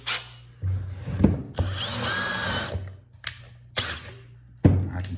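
A power drill driving a screw whirs in several short bursts, with one longer sustained run in the middle, close by and loud, separated by brief pauses.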